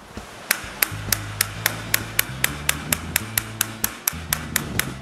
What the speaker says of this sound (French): Avec une brocheuse électrique, ça va pas mal plus vite.